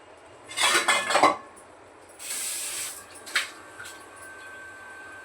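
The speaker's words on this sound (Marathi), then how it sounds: "जरासं झाकण ठेवते यावर." A lid set on a cooking pot over a low gas flame in a home kitchen: bursts of hissing sizzle, then a short metallic clink, close and alone without talk.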